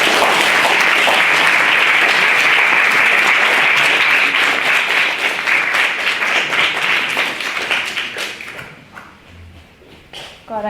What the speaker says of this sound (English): So give Josie a big round of applause